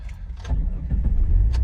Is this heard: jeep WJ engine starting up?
yes